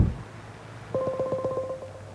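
Telephone keypad tones sound in a quick run of about eight short, even beeps from a nearby handset, after a brief thump.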